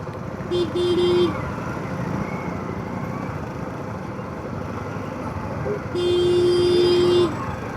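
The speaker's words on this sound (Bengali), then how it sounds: "সামনের বাসটা এমনভাবে দাঁড়িয়েছে কেউ পেরোতে পারবো না আমরা, জ্যাম আছে" Car horns blare twice in a Kolkata traffic jam, once briefly and then in a longer blast, over the steady rumble of idling vehicles.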